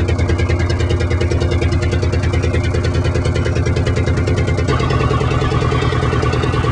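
A Redstone one-cylinder diesel turning a 12 kW generator on waste vegetable oil keeps up a loud, even chugging beat, with a slight shift in tone partway through, its rhythm recorded up close.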